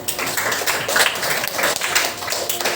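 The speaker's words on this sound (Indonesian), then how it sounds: "Oke, kita beri aplaus dulu untuk temannya" Students in a maths classroom applaud a classmate, producing steady, dense clapping from many hands that stays fairly loud and even for the whole short stretch.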